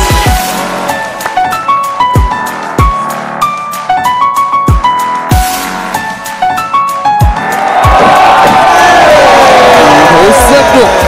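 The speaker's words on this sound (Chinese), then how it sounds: "给点掌声" At a basketball shooting-challenge TV show, a rhythmic run of sharp thumps gives way to a loud, sustained roar of studio audience cheering and shouting for the final seconds.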